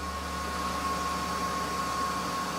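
Electric hair dryer running on its first speed setting, a steady even whoosh of blown air with a constant motor whine, close and alone without talk.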